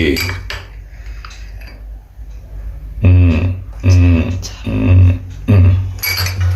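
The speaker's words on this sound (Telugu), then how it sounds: "ఇదిగో స్పూన్ రెడీగానే ఉంది" A spoon clinks and scrapes against a dish while preparing red chilli chutney, with a faint voice early on and then four loud, evenly spaced clattering knocks near the end.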